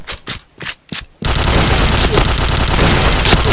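Gunfire in the shooting video game Point Blank: four distinct sharp shots, then a loud, unbroken burst of rapid automatic fire.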